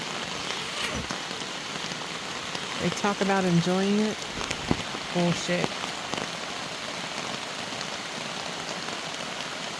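Constant rain patters and hisses on nearby camping gear throughout, while someone speaks briefly in the middle.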